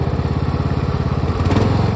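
Riding lawn mower engine chugging steadily as it drives along, a rapid, even thumping pulse, close and continuous with no voices.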